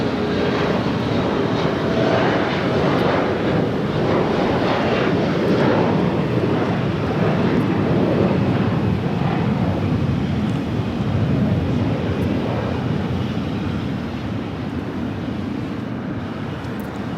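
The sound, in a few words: Delta Airbus A330neo jet taking off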